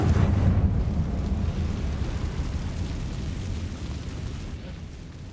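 A deep, rumbling explosion from the Confringo fire spell in the video game Hogwarts Legacy, bursting loud at the start and then rolling and fading slowly like distant thunder, with no voices over it.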